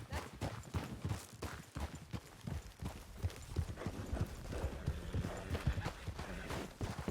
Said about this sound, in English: That's Pip on the back of his horse.